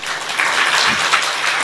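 An audience at a Brahma Kumaris gathering claps to welcome the speaker, BK Suraj Bhai Ji, producing a steady, dense wash of applause that holds at an even level throughout with no voices.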